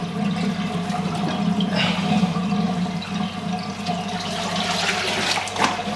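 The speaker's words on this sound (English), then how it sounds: "let's let the tank empty itself down a bit now" Water pours and drains steadily out of an aquarium tank during maintenance, a continuous rushing, gurgling flow lasting throughout at moderate level.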